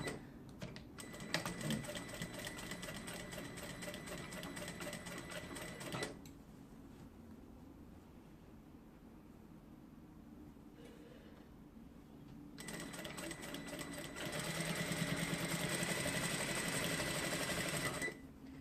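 Sewing machine topstitching a checked hanbok, a steady rapid mechanical whirr running in two long bursts with a quieter pause between, close and alone without speech.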